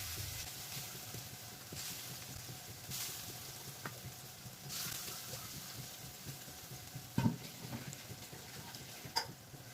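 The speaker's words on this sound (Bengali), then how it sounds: "বড়ার মতো করে গোল গোল করে একটু ব্রাউন কালার করে তেলে ভেজে নেব।" Raw banana kofta balls frying in hot oil, giving a steady faint sizzle and crackle throughout, with a couple of sharper clicks near the end.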